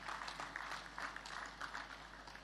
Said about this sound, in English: I think we all deserve a big round of applause for this.